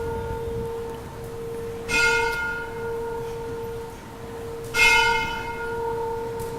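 A bell rings out twice, about three seconds apart, in a quiet hall during a lecture. Each clear strike leaves a long, humming tone that fades slowly into the room.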